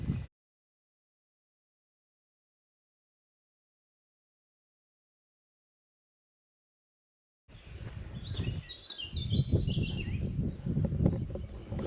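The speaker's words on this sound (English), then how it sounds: "Birds," Birds sing in Mametz Wood, a former battlefield, in April, a busy chorus of chirps and trills that starts abruptly after a long silence and stays fairly close and steady.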